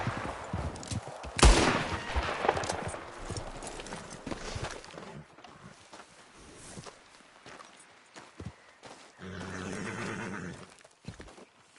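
Gunfire at rabbits in the Red Dead Redemption 2 video game, a sharp loud shot near the start, then quieter hoof clops and rustling movement with a brief swell of game sound later.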